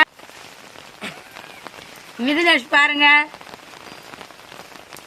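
Steady rain falls throughout during a rainy Diwali at a family home where cows are milked, a continuous close patter with a voice calling out briefly, then a short sung or drawn-out vocal passage partway through.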